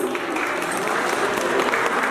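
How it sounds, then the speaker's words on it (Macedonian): Steady, dense audience applause at a wedding-style celebration in Switzerland, a crowd clapping continuously and evenly at moderate loudness for a couple of seconds with no voices on top. "ве молам еден аплауз"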